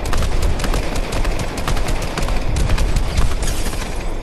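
Rapid bursts of automatic gunfire fill the clip, a dense loud fusillade of overlapping shots with no pauses, in a shooting game.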